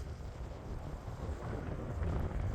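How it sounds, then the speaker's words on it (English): Wind buffets an outdoor microphone, producing a low, rumbling, uneven roar that swells slightly toward the end, fairly quiet overall with no speech. "It's all windy."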